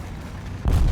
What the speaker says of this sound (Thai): อ่าระเบิด